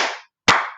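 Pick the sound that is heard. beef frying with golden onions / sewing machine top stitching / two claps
two claps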